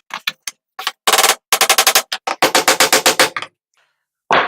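Rapid bursts of sharp hammer taps driving a screw into a pre-drilled hole in a wooden jig for a column router slot cut, loud and close, in quick clustered runs with brief pauses and a final strike.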